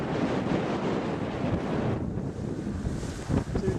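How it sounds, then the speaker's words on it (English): Strong wind buffets the microphone aboard a boat heading into a canal, a loud continuous roaring rush with gusty swells and water noise beneath, easing slightly midway. "Got a strong wind at the moment."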